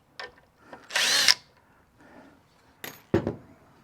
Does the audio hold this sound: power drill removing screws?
yes